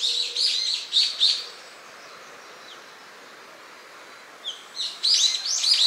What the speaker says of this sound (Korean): 새들 노랫소리가